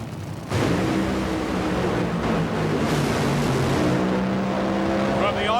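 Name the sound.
Top Fuel dragster race run, Team Winston car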